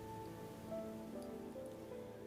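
Steady rain falls as a background bed in a Japanese audio drama, a continuous soft hiss with no voices, set at a dim, cloudy dawn.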